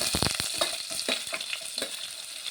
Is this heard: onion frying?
yes